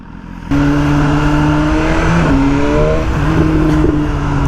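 A BMW motorcycle engine warming up, a steady close-up idle hum whose pitch slowly creeps upward and wavers midway, with no voices over it.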